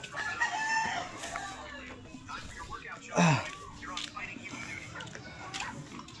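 A rooster crows once, fairly close, amid outdoor background noise and scattered chicken sounds, with a person speaking around it.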